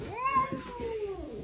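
A cat gives a single drawn-out meow that rises and then slowly falls, close and fairly clear, with a faint murmur of background noise underneath.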